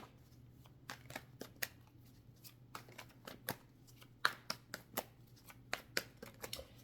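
Tarot cards are shuffled and handled at close range, soft papery flicks and riffling snaps arriving in irregular bursts over a quiet, low hum.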